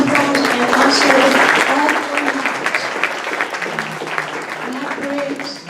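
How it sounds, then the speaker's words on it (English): Applause for Rotarians at a ceremony: a large audience claps loudly at first, then the clapping thins and tapers, with a voice speaking over it toward the end. "would you all give yourselves an applause"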